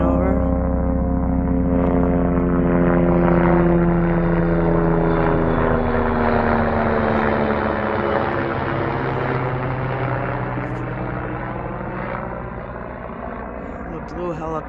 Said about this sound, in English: A helicopter flying over.